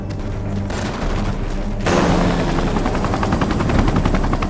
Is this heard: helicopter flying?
yes